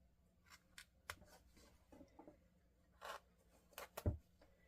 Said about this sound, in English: So we're just going to put some snips